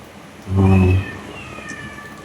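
A single loud, drawn-out cat meow, harmonic and clear, lasting about half a second over quiet background noise.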